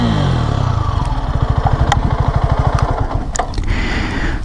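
Suzuki Gixxer 250 SF motorcycle engine, loud and close, dropping from a high rev toward a rapid pulsing idle-like chug, with a few sharp clicks and a rising whine near the end.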